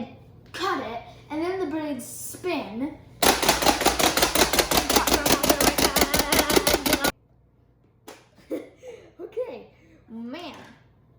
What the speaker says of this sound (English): we finished chopping the sage roughly with the Oxo Chopper